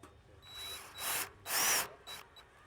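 A power drill drives a bolt into the foot of a Pergolux Skydance S3 backyard pergola in several short whirring bursts separated by brief pauses, close by and with no speech.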